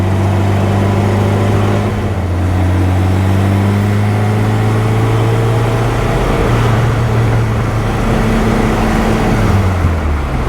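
A supercharged 1275 Super Bugeye engine drones steadily from inside the car while driving, its pitch sliding up and down as revs change, loud and continuous with no talking.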